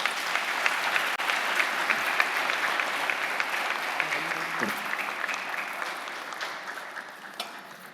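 Steady audience applause at a Sunday church service fills the whole stretch, a dense wash of many hands clapping at moderate distance, with no voices over it.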